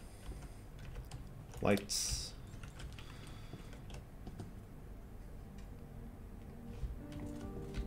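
A typewriter in the Resident Evil 2 remake demo clicks in soft, irregular keystrokes beneath a dim ambient game background, with a brief louder thud early on and a voice speaking once.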